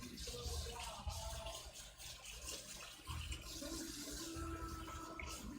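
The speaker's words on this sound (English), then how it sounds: "Washing our hands again." Hot tap water runs steadily into a home sink during handwashing, a continuous close rush with faint splashing and small shifts in flow, no talk over it.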